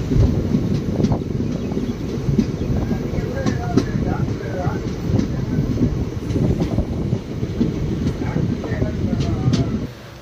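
Mayiladuthurai–Mannargudi express train running via Thiruvarur and Nidamangalam, a loud steady rumble and rattle of carriages from inside, with continuous low clatter and faint voices.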